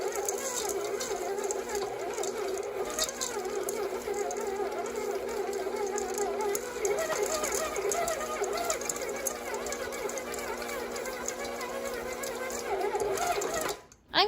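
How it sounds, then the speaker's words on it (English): An electric mixer works chocolate cookie dough with peanut butter chips, making a steady mechanical whirring and rattling that holds for about fourteen seconds before cutting off with a bump. "I'm going to mix this until the peanut butter chips are evenly spread out."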